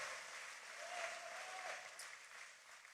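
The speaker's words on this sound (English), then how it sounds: "Give Brian a big round of applause." A campaign rally crowd in Holland, Michigan claps and cheers, steady, slightly distant applause with a brief whistle or shout rising partway through, fairly faint overall.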